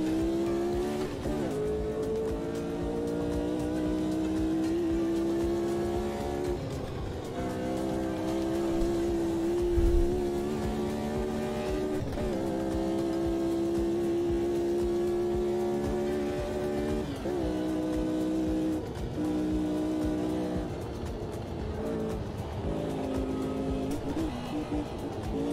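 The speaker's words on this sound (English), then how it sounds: "This car's sliding all over the place." A race car in the Automobilista 2 racing game slides with sustained tire squeal over a steady, loud engine drone that rises and falls with throttle through the clip; talk is faint or absent.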